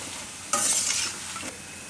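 Spinach pakoras fry in a pan, a hot burst of sizzling and crackling oil that flares up loudly for about a second, then settles back to a quieter simmer.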